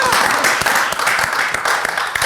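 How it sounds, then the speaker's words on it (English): A gathered crowd bursts into sustained applause, dense overlapping hand claps filling the whole moment at a loud, steady level with no speech on top. "Let's clap for her again"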